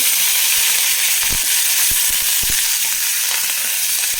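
Green chilies frying in a pan, a loud continuous hissing sizzle with scattered pops and crackles throughout, close and alone without speech.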